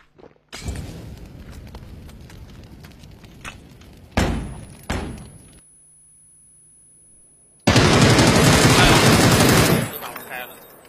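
Rapid automatic gunfire in a shooter video game, loud bursts of shots with thuds and a sharp pause, then an intense sustained volley; voices are heard briefly.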